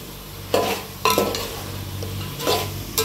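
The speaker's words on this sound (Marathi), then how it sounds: "आता त्याला बी हलवून चांगलं घ्यायचं" A spoon scrapes and stirs biryani masala with chilli powder and turmeric in a hot pan, a few distinct strokes over a steady soft sizzle of frying.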